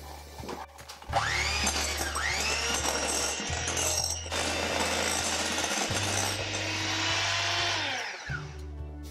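An electric mixer creams butter and brown sugar together for gluten-free almond flour chocolate chip cookies. The motor whirs in several close bursts, its pitch rising and dipping as the beaters work through the mixture.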